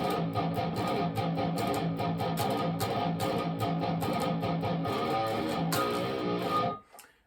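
A distorted electric guitar plays a riff, chugging palm-muted notes in a tight repeating rhythm, loud and close, before stopping abruptly near the end.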